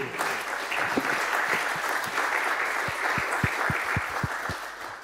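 An audience claps for several seconds after a talk on what it means to be human, with individual claps standing out sharply near the end.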